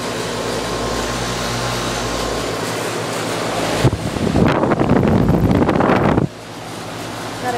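A Heil Max Performance 10 heat pump runs in cool mode outdoors, giving a steady, fairly quiet mechanical hum with a low tonal drone. A burst of rushing wind-like noise rises over it midway, then the hum settles back.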